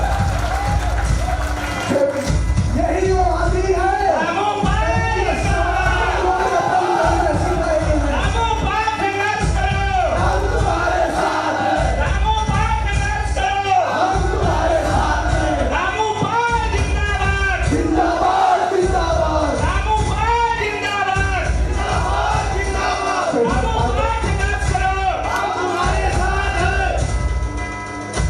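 An audience at a Mumbai gathering welcomes a guest with loud, rhythmic cheering and clapping, chanting in repeated surges that stay strong and close for the whole stretch, with a brief spoken remark in the mix.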